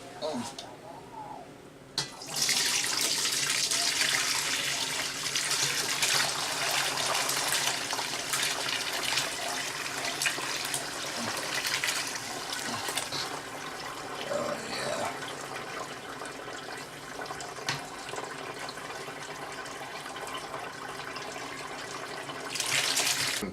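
Brown stock pours through a colander set inside a bucket, a continuous close splashing gush of liquid that runs almost the whole time after a brief quieter start.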